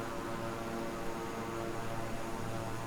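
Propeller airplane flying in Microsoft Flight Simulator 2020, a steady continuous engine drone with a broad hum, holding level and unbroken throughout.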